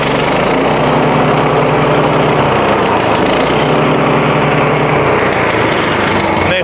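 A GT petrol branch chipper runs loudly and continuously close by, its small engine giving a steady buzzing roar with slight rises and falls in pitch throughout.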